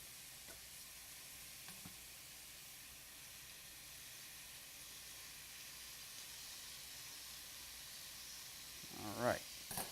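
Pork tenderloin sears in a hot pan with a faint, steady sizzle and hiss running throughout, ending in a brief louder clatter near the close.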